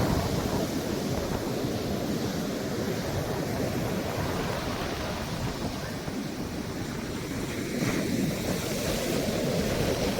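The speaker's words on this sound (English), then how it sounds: "the frequency of the waves are definitely picking up here." Ocean waves break steadily on a beach as Hurricane Melissa approaches Jamaica, giving a dense, continuous roar of surf and wind that swells slightly near the end, with no talk.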